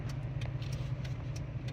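A Ford 4.6 V8 idles steadily with a low, even rumble, close and moderately quiet, with faint light ticking on top and no voices.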